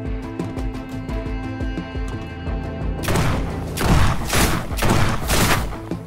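Shotgun blasts in the first-person ninja ragdoll game Sword With Sauce: rapid, sharp repeated shots give way to a few loud, booming reports with heavy impacts, no talk over them.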